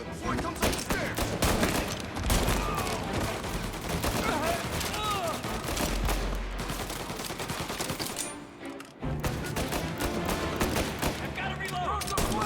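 Dense, rapid gunfire rattles through a shootout in Mafia: Definitive Edition, loud close bursts of repeated shots with a brief lull near the end before firing resumes, with voices shouting over the fight.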